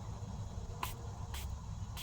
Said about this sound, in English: I'm going to spray it on my face like